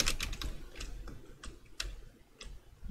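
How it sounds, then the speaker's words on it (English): Computer keyboard typing, a quick run of crisp, close key clicks in uneven bursts, some taps louder than others, with no talk over them. "Keyboard sounds."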